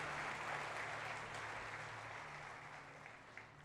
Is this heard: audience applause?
yes